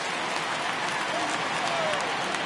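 Home crowd at a baseball game roars in a steady, dense wash of cheering and applause that holds at full level throughout, with no clear single voice standing out.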